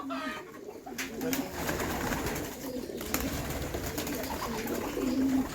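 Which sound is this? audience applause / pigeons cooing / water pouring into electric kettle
pigeons cooing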